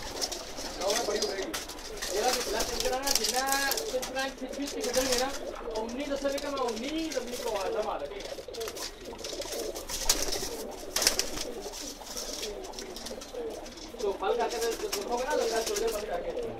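Pigeons coo repeatedly at close range, the Pakistani birds' soft warbling calls overlapping steadily throughout alongside occasional wing rustles, with people talking at times.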